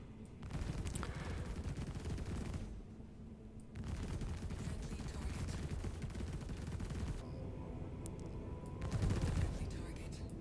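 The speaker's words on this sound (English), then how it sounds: "Here you can see I am precision targeting the power plant, trying to disable my own ship." Rapid ship-mounted guns on a Merlin fire at an Asgard in Star Citizen, long continuous bursts broken by brief pauses, with a voice talking faintly underneath.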